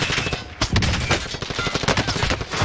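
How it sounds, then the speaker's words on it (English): Dense, rapid automatic gunfire from an AS VAL build in a first-person shooter video game, continuous overlapping shots from several weapons in a loud, close firefight. "Taking fire!"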